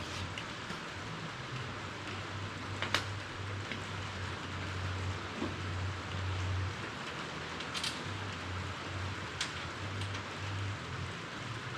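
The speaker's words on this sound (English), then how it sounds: "Getting some rain today. Rain and snow." Steady rain patters softly on surfaces for a long stretch, with a low hum underneath and a few faint louder drips.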